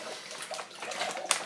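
About 1.5 litres of water pours steadily into a 2-litre pan on an IKEA TILLREDA induction hob, a soft continuous splashing trickle heard close up.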